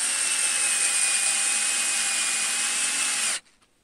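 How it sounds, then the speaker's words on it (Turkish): A power screwdriver whirs steadily at high pitch while driving screws into beehive lids, running loud and close for about three seconds before cutting off abruptly into quiet. "Onun için kapaklarını vidalıyorum."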